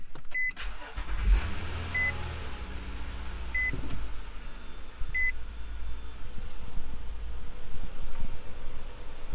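A 2015 Nissan Murano cranks and fires up after an oil change, then settles into a steady idle, with a few electronic chimes ringing out over the running engine.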